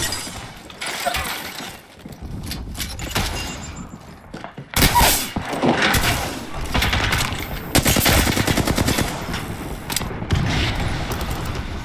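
Rapid automatic gunfire and impact shatters from an Apex Legends match, loud and dense in bursts, with sharp repeated shots crowding the later half and no talking.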